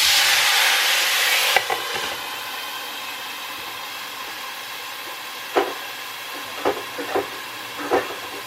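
A loud, steady hiss of steam from a hot pan fills the first moment, then cuts off as a lid goes on, followed by a few light metallic clinks and taps.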